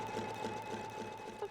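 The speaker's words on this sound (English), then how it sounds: "I'm going to stitch the fabric down. It's called the tack down line, tack down stitch." A sewing machine running steadily to stitch a tack-down line through quilting fabric, giving a close, even, rapid mechanical whir with a constant hum, with no talk.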